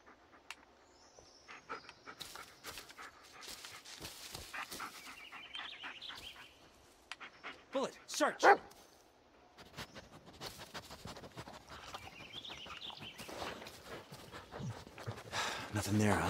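A dog in the Blair Witch video game panting in short breathy bursts, with a louder sharp burst midway, heard along with footsteps and a person talking.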